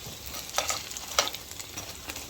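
Saltfish and bell pepper fritters fry in hot oil with a steady, close sizzle, sprinkled with brief crackles and pops.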